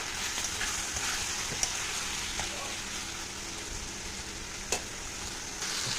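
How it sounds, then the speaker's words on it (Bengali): Ground cumin and coriander masala frying in a pan for a fish curry, a steady close sizzle throughout with a couple of faint clinks of stirring, no one speaking. "তো এবার মশলাটা খুব ভালো করে কষিয়ে নেব"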